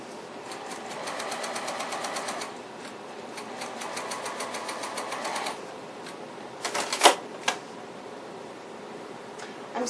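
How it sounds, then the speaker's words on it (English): A Juki TL98Q straight-stitch sewing machine sews quilt pieces in short bursts of fast, even ticking, pausing between runs, with a few sharp clicks near the end and no talking. "I'm sewing on a Juki TL98Q. It's a straight stitch machine."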